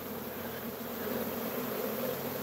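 Honey bees hum in a steady, dense drone around a Hive IQ box, a constant close buzzing with no speech.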